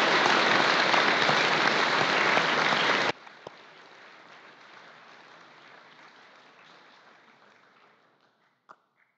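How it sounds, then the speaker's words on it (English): Applause for long-serving school staff at a Founders Day assembly: a loud, dense crowd clapping for about three seconds, then dropping abruptly to a softer, thinning patter that fades out, with a couple of late isolated claps. "And I think that deserves a round of applause and acknowledgement."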